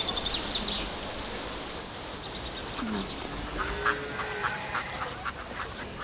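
Ducks quack several times outdoors at a city farm against a constant background hiss, their calls moderately distant and rising over a steady ambient murmur.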